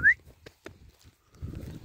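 A short, sharp rising recall whistle blown once to call a German Shepherd puppy, followed by a few faint clicks and some low rustling in the background.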